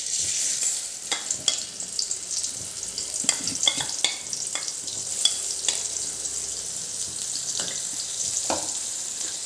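Asafoetida and chutney hit a hot pan and are stirred, giving a steady sizzle and frying hiss broken by repeated sharp scraping clicks of the spoon, close and clear with no voices.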